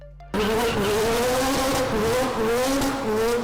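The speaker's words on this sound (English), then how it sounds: "we will never forget the sound of a Rotary at full throttle" A rotary-engine race car screams at full throttle, a loud, high, buzzing wail that holds steady with slight pitch wobbles, close and continuous.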